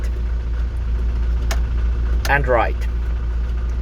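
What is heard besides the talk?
1984 Ford Transit light truck engine idling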